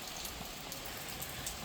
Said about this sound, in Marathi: भरपूर जोराचा पाऊस चालू आहे